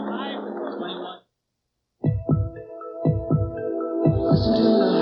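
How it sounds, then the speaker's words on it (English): A deep, throbbing heartbeat from a Chevy Cavalier TV commercial during a 1986 football broadcast, several strong paired thumps in a slow rhythm with a sustained musical tone, following a stretch of talk and a short silence. "Listen to the heartbeat"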